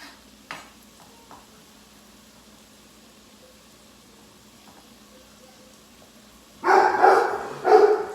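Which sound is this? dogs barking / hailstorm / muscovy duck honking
dogs barking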